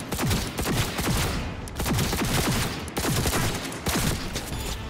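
Sustained bursts of automatic gunfire from a Cyberpunk 2077 firefight, loud and close, repeating in roughly one-second volleys with brief dips between them.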